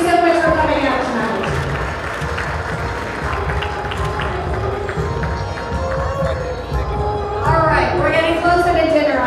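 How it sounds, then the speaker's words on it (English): An audience at a chamber of commerce evening event applauds, with sustained clapping and cheering from a crowd and a voice speaking over it. "Let's give these ladies a round of applause."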